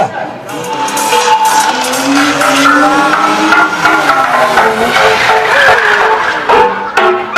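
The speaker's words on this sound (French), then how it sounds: "On fait attention sur le passage, on démarre les véhicules à toute vitesse." Monster trucks launching at full speed on a stunt show track, loud roaring engines with rising and falling revs and tire noise alongside a crowd, while an announcer talks over it.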